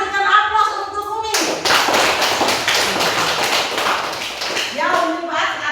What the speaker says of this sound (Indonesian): berikan aplaus untuk Umi